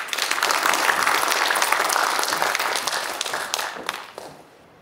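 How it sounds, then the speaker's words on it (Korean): A crowd at a Daechi Mido residents' gathering applauds with dense, sustained clapping that gradually thins and fades out at the end. "김용혁 공동회장님을 큰 박수로 맞아주시기 바랍니다."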